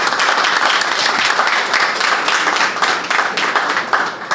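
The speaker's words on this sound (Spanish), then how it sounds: "Fuerte el aplauso, que se escuche." Loud, sustained applause from a large audience at a historiography congress, steady clapping filling the space for several seconds.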